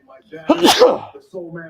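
A single sharp sneeze bursts out at a party, surrounded by people talking.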